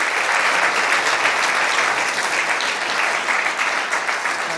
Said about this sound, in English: Can we give Nicola another round of applause?